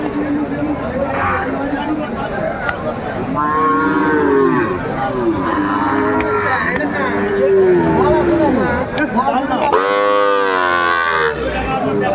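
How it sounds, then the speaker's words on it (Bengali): A Sahiwal bull calf lows repeatedly, long drawn-out moos close by, over a busy crowd of people talking in the background at a cattle market. "শাহিওয়ালার ষাঁড় বাচ্চা আমরা দেখছিলাম"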